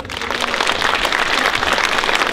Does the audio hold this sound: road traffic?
no